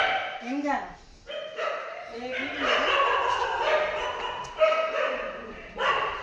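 A dog barks and yips repeatedly nearby, mixed in with people talking, during a cobra rescue at an iron gate in Madurai, India.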